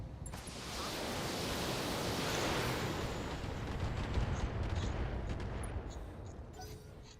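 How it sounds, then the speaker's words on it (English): An LRM missile barrage in the BattleTech video game rolls as a dense, continuous roar of rumbling impacts and rushing noise, swelling and fading over several seconds with scattered sharper crackles near the end. "And they will be continuing the LRM barrage."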